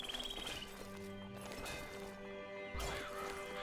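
A horse in the video game Nehrim neighs and whinnies while hooves clop nearby, with a thudding impact near the end, all under a steady game ambience.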